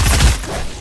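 A spam gun firing in Fortnite, a short loud burst of rapid blasts heard up close, ending quickly.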